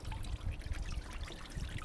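Water trickles steadily while a small pond pump is tested for an aeroponic cloning station, a soft continuous dribbling heard faintly on its own.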